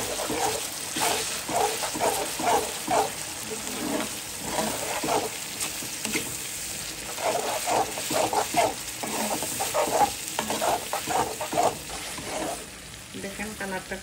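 Dried fish and chilies fry and get stirred in a pan, giving a close, steady sizzle broken by rhythmic scraping strokes of the spatula, with the stirring easing off near the end.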